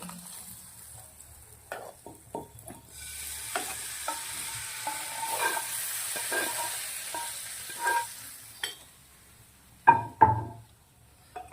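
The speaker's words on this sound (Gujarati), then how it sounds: "હવે આપણે જે વઘાર બનાવ્યો છે એ નાખી દેવાનો છે દાળના અંદર" Hot spiced tempering poured into cooked dal in a pot bursts into loud, close sizzling and spluttering, followed by repeated stirring scrapes and clanks of a spoon against the metal pot, ending with a couple of sharp knocks.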